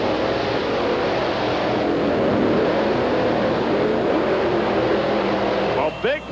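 1990 monster trucks Bigfoot and No Problem racing at Myrtle Beach, South Carolina: a loud, continuous engine roar from a distance under crowd noise, with a sharp drop and rise near the end.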